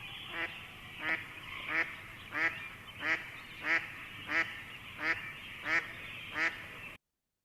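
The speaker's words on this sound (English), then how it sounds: "We got the quack, quack, quack of the mallard." A mallard duck gives a steady series of about ten evenly spaced, rasping quacks, heard clearly as a recorded call over faint background noise.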